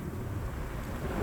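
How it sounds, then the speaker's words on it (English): Strong wind buffets the microphone outdoors on a ridge, making a steady, loud, low rumbling roar with gusty fluctuations and no speech. "It's really windy, blowing my hat."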